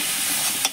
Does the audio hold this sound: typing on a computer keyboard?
no